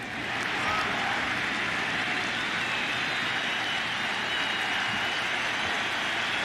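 Stadium crowd at a 2003 ALCS Game 7 between the Yankees and Red Sox, a dense, steady roar of cheering and applause that holds loud and unbroken throughout.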